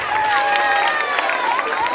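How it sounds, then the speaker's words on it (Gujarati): Applause from a crowd at a Rawal community donation gathering, a dense, continuous wash of clapping with a loud voice ringing over it throughout. "એક જોરદાર તાળીઓ"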